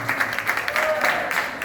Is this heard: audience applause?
yes